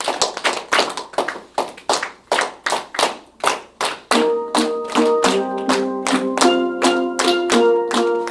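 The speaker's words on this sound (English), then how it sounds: "Let's all try clapping that so we can understand what that is" An audience claps a steady, even beat together. Partway through, ringing steel pan notes join the clapping at a steel pan ensemble lecture.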